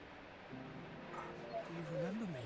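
Torgal, a dog in the video game Final Fantasy XVI, gives soft whimpers that rise into a drawn-out whine, quiet and close, heard over faint background ambience.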